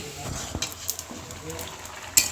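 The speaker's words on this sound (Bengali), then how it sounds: "দেখুন ঢাকাটি খুলে আরেকবার নেড়ে নেওয়া হচ্ছে" Lentils and vegetables stir in a pan with a spoon, giving soft scraping clicks and a low sizzle over a steady background hiss, with a sharper clack near the end and faint voice-like murmurs mixed in.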